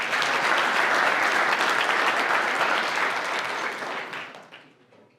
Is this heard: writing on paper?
no